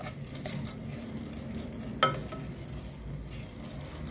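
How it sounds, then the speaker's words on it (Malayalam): Chana dal stirred as it fries in ghee in a pan, giving a soft, steady sizzle with occasional light clicks of the spoon against the pan, and no talking. "ഇത് കുറച്ച് നെയ്യ് ഒഴിച്ച് ഇതിനകത്തിട്ടൊന്ന് ചൂടാക്കിയെടുക്കാം."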